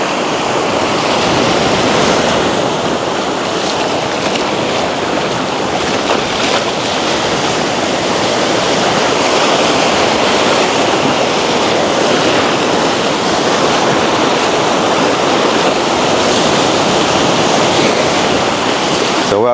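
Ocean surf rolls continuously onto a beach on an early morning walk, a steady loud wash of breaking waves with no pause and faint wind across it.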